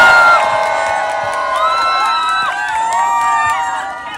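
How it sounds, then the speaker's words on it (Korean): A crowd at a Seoul presidential campaign rally for candidate Lee Jun-seok in Songpa cheers and whoops loudly, with shouting voices rising and falling throughout, holding steady then tapering slightly at the end. "큰 박수 주십시오"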